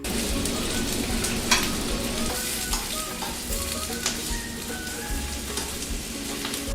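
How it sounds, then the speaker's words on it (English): Spinach and parsley frying in garlic butter in a pan, a spatula stirring through the greens with steady close sizzling and occasional scraping clicks throughout. "add your spinach and parsley. So casually stir it around and cook it until it's wilted."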